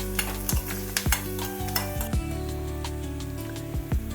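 Chopped onion frying in a pan for poha, salted, with a soft sizzle under repeated clinks and scrapes of a spoon stirring against the pan in an irregular rhythm.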